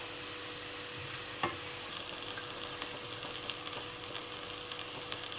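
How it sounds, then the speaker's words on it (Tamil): Mushroom and capsicum stirred in a pan on a simmering stove, a soft steady sizzle with scattered faint spoon clicks and scrapes, quiet and close. "இப்போ இதெல்லாம் நல்லா மிக்ஸ் பண்ணிவிட்டு ஒரு 5 நிமிஷம் நல்லா சிம்மில் வச்சு க்ளோஸ் பண்ணி வச்சிடணும்."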